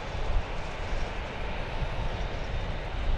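An Airbus A320 airliner rolling along the runway at DFW Airport, a steady, broad jet roar that holds at a constant level for the whole stretch, with no voices.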